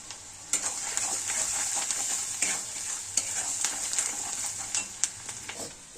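Salted potatoes frying in a pan, a bright continuous sizzle with frequent stirring scrapes and occasional utensil knocks, close up and moderately quiet, no talking.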